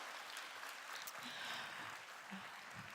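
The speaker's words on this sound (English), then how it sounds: "please give a round of applause for this brave audience today" Audience applause at a GovTech Leaders 2024 conference, a steady wash of clapping that sounds faint and distant throughout.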